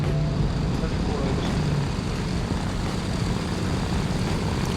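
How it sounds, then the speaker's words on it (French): A steady propeller engine of a Douglas DC-3 airplane in the video game Arma 3 drones continuously at a moderate distance, a constant low hum with no break. "C'était un Douglas DC-3 qui se pose sur notre 130."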